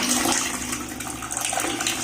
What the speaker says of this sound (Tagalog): isasali na natin yung uh, pinakulo nating tubig